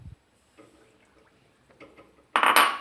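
Semolina is poured into water in a pot for a soup, heard as faint soft clinks and rustles followed by a louder, close splashy rush near the end.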